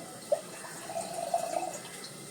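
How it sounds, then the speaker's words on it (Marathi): Water poured onto a lid covering a pan of cluster bean and potato vegetable, a soft trickling splash after a brief sharp contact, steady and close for a couple of seconds. "झाकणावर मी आता जरा पाणी घालणार आहे"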